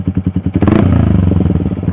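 Yamaha R15 motorcycle fitted with a custom Termignoni racing exhaust, revved close up: a series of rapid throttle blips, then a loud, sustained high-rev roar with crackling exhaust pulses.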